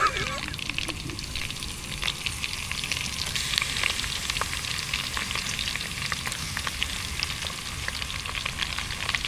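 Pork fat and pieces of meat fry in a pan over a camp stove at a minivan campsite, giving a steady, loud crackling sizzle with scattered pops throughout, with no talking.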